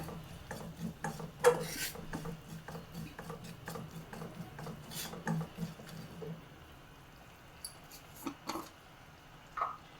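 Chili powder being stirred into an ivy gourd pickle mixture gives a soft, uneven scraping and rubbing with a spoon, brief clinks against the bowl, and a few sharper knocks near the end.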